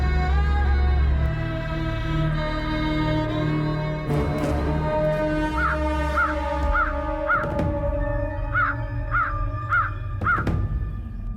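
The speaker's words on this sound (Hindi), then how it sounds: "ये कौवा चिल्ला क्यों रहा है?" A crow caws loudly in harsh, evenly spaced calls, one after another, close by, over a sustained musical drone with no voices.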